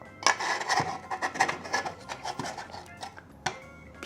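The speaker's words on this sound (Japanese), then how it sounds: "ここはちょっとね、ヤスリで落としてここにはめたいと思います" A rasp files down the edge of a 3D-printed dust-collection cover for a RYOBI AP-10N planer, making close, uneven scraping strokes with sharp clicks and knocks in between.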